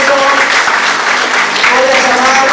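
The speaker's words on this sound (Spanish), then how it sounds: "Con el aplauso" Loud, close applause from the crowd at a union gathering on the memory of peasant struggles of the seventies, greeting a painting made in tribute. Dense, continuous clapping fills the brief moment without pause.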